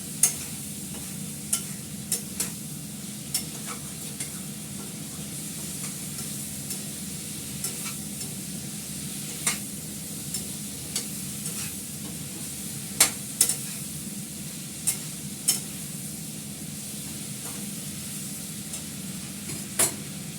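Fish fries in oil in a kadai with a constant close sizzle, broken by repeated sharp scrapes and clinks as it is stirred, all through with no talking.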